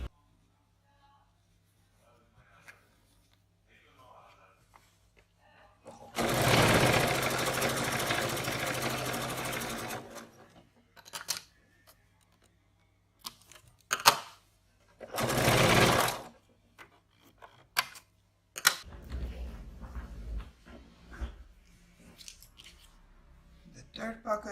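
Domestic sewing machine stitching a pocket piece onto a drawn line: two loud, sustained bursts of motor whir, one about four seconds and one about a second and a half, with short clicks and fabric handling between them in a quiet room.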